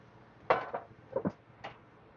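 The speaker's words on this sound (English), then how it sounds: "Throw the lid back on." A pan lid set back on a pan in an RV kitchen while burgers cook: a sharp metallic clatter and a couple of lighter knocks and rattles, close and brief, in a quiet room.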